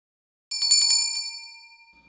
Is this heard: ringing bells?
yes